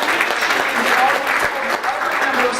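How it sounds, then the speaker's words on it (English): A meeting audience at an association's awards gathering breaks into steady, dense applause, loud and sustained throughout with no pauses. "you need to give yourselves a big round of applause"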